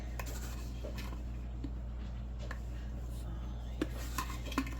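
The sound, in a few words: stirring sugar syrup in a pot for canning peaches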